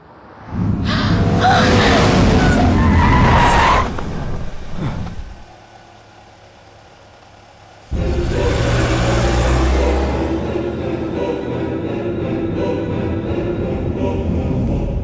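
A car in a dramatic movie scene screeches and revs loudly, engine roaring forward, then drops to a quieter stretch before a steady rumbling engine and road noise return, with no talk over it.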